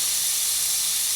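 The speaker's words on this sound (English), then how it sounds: "there goes the damn compressor again" Air compressor in a garage during a DIY brake repair, running as a steady, loud, close hiss with no talking over it.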